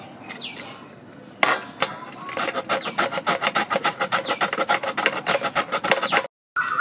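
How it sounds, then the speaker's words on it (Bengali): Carrots for carrot halwa being grated against a hand grater, a fast run of sharp, rhythmic rasping strokes that starts hesitantly and then settles into a steady close, loud scraping pattern, briefly stopping near the end. "আমি এইভাবে সব গাজরগুলো কুচিয়ে নেব"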